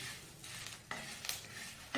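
Sambar ingredients fry in a little oil in a pan while being stirred, giving a soft sizzle with intermittent scraping clinks of the utensil against the pan, fairly quiet and close.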